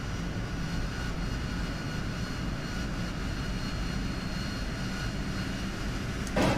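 A steady, loud jet roar from a Harrier jump jet in DCS World holds constant throughout, a dense engine drone with no breaks and no talking.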